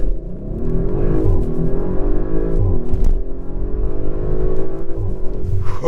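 A 2023 Audi RS5 Coupe accelerating hard in S mode, its engine rising in a strong steady rev from inside the cabin, loud and continuous with a brief shift dip partway through and no talking.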